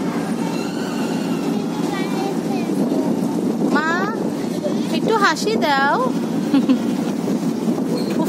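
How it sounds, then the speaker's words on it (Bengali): A river launch under way, its engine a steady low drone throughout, with people talking and a voice over it. "এখন লঞ্চটা চালু হওয়াতে একটু বাতাস পাচ্ছে"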